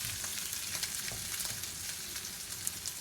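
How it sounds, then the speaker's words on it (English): Thinly cut smoked bacon frying and crisping in a pan, a close, steady hissing sizzle with scattered crackles and pops throughout, no voices. "Thinly cut smoked bacon is the best. Nice and thin because it crisps up so well."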